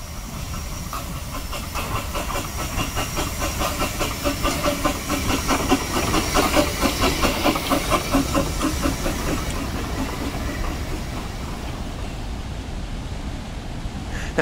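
Steam train on the Talyllyn Railway in Snowdonia, a steady chuffing hiss with rhythmic rail clatter running continuously at moderate level throughout, no voices.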